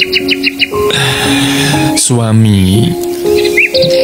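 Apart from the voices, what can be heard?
birds chirping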